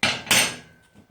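Two sharp metallic strikes from a copper hide hammer, close and loud, the second following about a third of a second after the first and ringing off quickly, with no voices.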